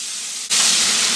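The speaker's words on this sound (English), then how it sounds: "Please be careful when adding this mixture in because the oil is super hot." A mixture hits super hot oil and erupts into a loud, broad sizzling hiss that starts abruptly after a softer background and stays steady and close.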